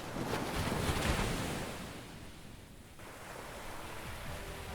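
Ocean surf along a coast near the warm Indian Ocean, a broad wash of waves swelling and receding with windy noise, moderately faint and continuous with no voices.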